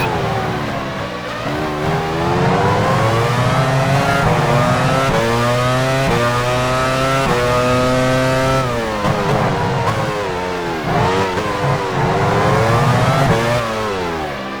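Formula One car in the racing game F1 Challenge 99-02 at the 1999 French Grand Prix at Magny-Cours, leaving the pit lane, its high-pitched engine rising and dropping through repeated gear changes, loud and continuous.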